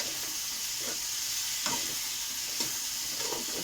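Bitter gourd, potato and chopped tomato are stirred in a hot pan, a steady sizzle overlaid by a few soft rhythmic scraping strokes of the spatula; no voices.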